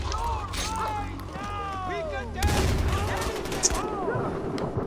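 Shotgun blasts and other gunfire from the video game Far Cry 4, several loud shots scattered through the passage over a busy game soundscape, with voices talking over it.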